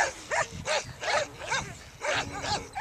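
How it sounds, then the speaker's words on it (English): A pack of old male dogs barks repeatedly outdoors at a dirt location, several sharp woofs in an irregular rhythm at moderate distance, with no talking over them. "We've encountered some new friends. They look like a gang. Yeah. A gang of old dogs."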